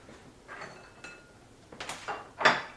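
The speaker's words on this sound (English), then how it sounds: "Once you cut your half an onion, you put it in your mixing bowl." Half a cut onion dropped into a mixing bowl, giving a few light knocks and a brighter clunk at the end, close and fairly quiet with no talking.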